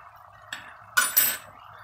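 Spoon stirring a pot of olive-oil green tomato stew seasoned with salt and red pepper flakes, two quick scraping clinks against the pot with a brief wet slosh, close and clear over a faint background hum.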